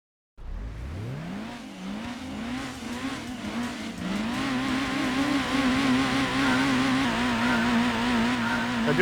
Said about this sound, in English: you can hear the revs are higher pitched as the camera is approaching, but then as soon as it gets to the car, it drops off and normalizes